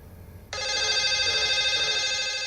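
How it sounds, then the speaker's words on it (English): A telephone starts ringing abruptly after a quiet half second, a bright, steady electronic trill that stays loud and continuous to the end, with no voices. "But the calls kept coming, up to 6 times a day"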